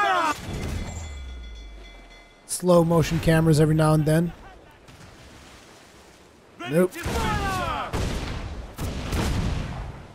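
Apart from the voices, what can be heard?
cannons firing from a ship in Assassin's Creed 4 video game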